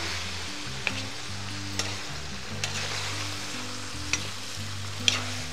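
Carrots tossed into a kazan of browning meat and onion over a campfire fry with a steady close sizzle, broken by a few sharp clacks of stirring, with no talk.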